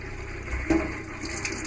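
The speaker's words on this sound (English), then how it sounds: "This is the water that's left over in the pipes." Leftover water in a sailboat's plumbing, being winterized, sputters from a faucet with air. It makes a short, close gurgling rush with a brief burst in the middle.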